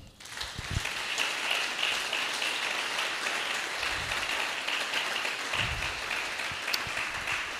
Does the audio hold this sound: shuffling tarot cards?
no